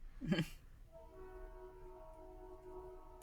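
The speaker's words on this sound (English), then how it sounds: "Tell the train to get out of the sound booth." A train passes close behind a recording booth, its horn sounding as steady sustained tones with a brief louder burst at the start, heard alone at moderate volume.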